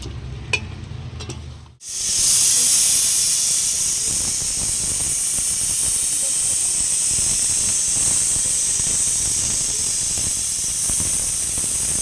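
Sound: pressure cooker whistle and steam hiss while cooking mutton

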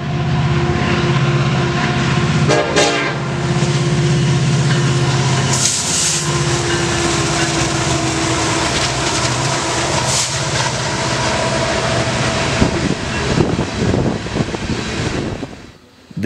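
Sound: freight train horn salute from coal train locomotive

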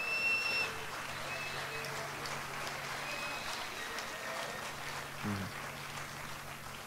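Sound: audience applause at a jazz concert

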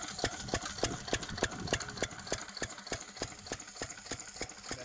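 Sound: Field Marshall 8 hp diesel farm engine running

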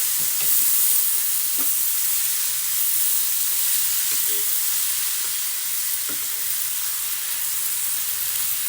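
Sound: vegetables being stir-fried in a pan

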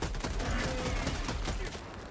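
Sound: gunfire in a video game until the magazine empties

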